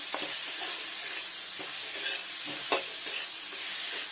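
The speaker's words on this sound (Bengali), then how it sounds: "কষাবো এগুলো সব একসাথে।" Fish curry ingredients with onion greens sautéed in a pan, a steady sizzle with soft repeated stirring scrapes, close and without talk.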